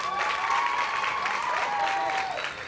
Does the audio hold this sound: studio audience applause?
yes